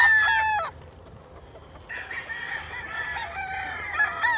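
A round-head crossbred gamecock crows loudly up close, one sharp call cut off early, followed after a short lull by a long, wavering crow that carries on to the end.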